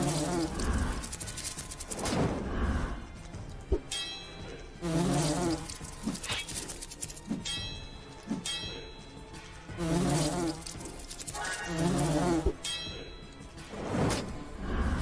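Buzzing wasps from the video game Lords of Xulima, a continuous insect drone that swells into louder passes every couple of seconds, with no talking.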